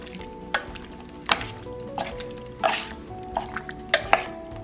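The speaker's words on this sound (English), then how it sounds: "black pepper, soy sauce, sweet rice wine. Give it a mix." Raw beef being stirred in a bowl with black pepper, soy sauce and sweet rice wine for Kung Pao beef, with a series of wet clinks and scrapes of a utensil against the dish, spaced irregularly and fairly close.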